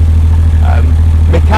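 A 1994 Porsche 911 Carrera 993 rear-mounted engine runs steadily close by with a deep, constant hum, while a brief voice breaks in partway through.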